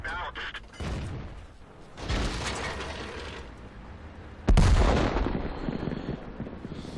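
Artillery fire in the video game World of Tanks: scattered mechanical clanks and shots lead up to one loud, sharp blast with a booming tail, while a voice talks over parts of the action.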